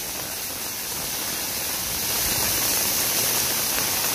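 Heavy rain pours down steadily in Nepal, a dense, continuous hiss of falling water that swells a little louder partway through, with no voices.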